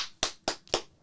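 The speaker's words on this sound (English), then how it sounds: "I should have been on you when you did that because I didn't clap very well." Three sharp hand claps, evenly spaced roughly a quarter second apart, close by and fairly quiet, with no one talking.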